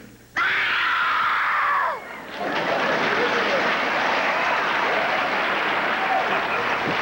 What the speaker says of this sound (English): Scream of fear? What kind of a scream?